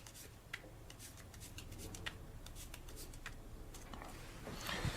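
Playing cards are shuffled by hand in a close, quiet series of soft riffling and sliding flicks with irregular rhythm, building to a slightly louder squaring of the packet at the end.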